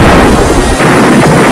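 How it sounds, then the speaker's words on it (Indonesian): Aircraft explosion as a destroyed plane blows apart, a loud, dense burst of roaring noise that stays heavy before easing slightly midway, with no speech. "Pesawat Profesor Sinol hancur dan meledak."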